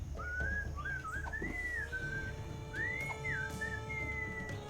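A melodic whistled tune from the Sam and Max video game, light wavering phrases over a soft steady background hum, clear and continuous throughout.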